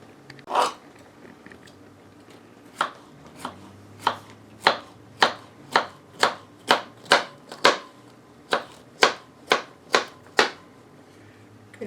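A knife chops a pepper on a cutting board, crisp individual strikes that start sparse and settle into a quick, fairly even rhythm, close and clear with no talking.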